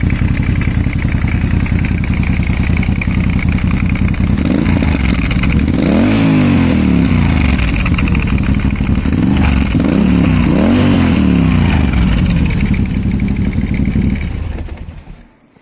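Moto Guzzi V85TT motorcycle fitted with a Storm exhaust, idling loud and close with a steady throb, then several sharp revs rising and falling in the middle before the engine cuts off at the end.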